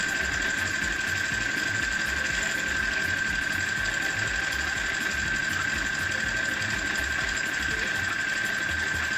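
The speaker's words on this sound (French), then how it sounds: "Vous pouvez coudre tout ça tout le long." A sewing machine runs steadily while stitching a beret, its even mechanical hum continuous and close throughout with no pauses.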